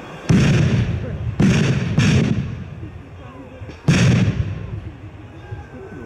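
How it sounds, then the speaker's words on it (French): Four sharp, loud blasts in quick succession, each a booming explosion with a short decaying rumble, separated by brief pauses. "Grenade! Grenade!"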